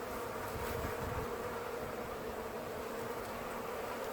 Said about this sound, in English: I can put my hand inside these bees, amongst these bees, and they're totally chill